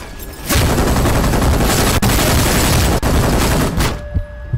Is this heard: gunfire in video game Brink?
yes